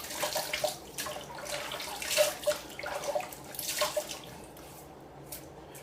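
Water runs from a tap to wet a shaving brush loaded with soap, producing irregular splashing and trickling bursts close by that quiet down toward the end.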